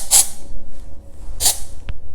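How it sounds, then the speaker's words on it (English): Hair spray hisses onto hair in two short, close bursts about a second apart, with a small knock between them. "So I like to take this and spray it."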